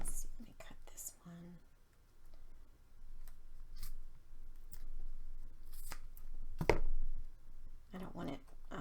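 Scissors snip a piece of paper for a handmade card in a few quiet, close cuts, with soft whispered talk in between.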